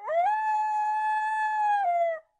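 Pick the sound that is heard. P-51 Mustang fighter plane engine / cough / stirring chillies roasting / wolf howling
wolf howling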